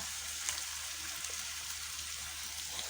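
Leftover rice stirred in a frying pan gives a soft, steady sizzle with faint scraping, quiet and continuous throughout.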